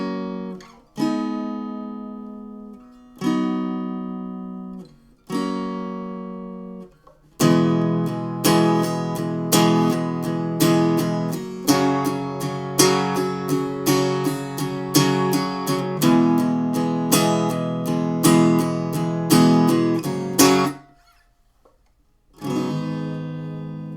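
Acoustic guitar playing the closing chorus section of a song, ringing strummed chords, first a few separated by pauses, then a steady run of rhythmic strums, with a final chord after a short gap.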